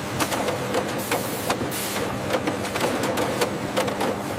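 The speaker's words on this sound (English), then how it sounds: "The BG31 coating station utilizes a high-speed laser to etch expiration dates onto the base of every Pringles can at an incredible rate." A high-speed laser on a Pringles can production line etches expiration dates onto can bases with a dense, rapid mechanical clatter of repeating clicks over constant factory noise.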